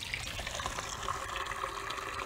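Purified rainwater runs from a Berkey gravity filter into a pitcher, a steady soft trickling and splashing stream heard alone without speech.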